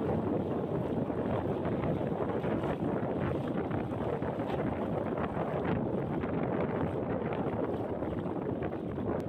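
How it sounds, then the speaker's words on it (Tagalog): Strong waves and wind at sea make a dense, continuous roar and rush with a heavy low rumble, steady and loud throughout with no voices. "Malakas ang alon at hangin."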